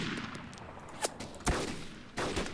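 Gunfire in the video game DayZ, several separate shots cracking out about a second apart over a steady background hiss, each a sharp broadband burst that fades quickly, with no voices.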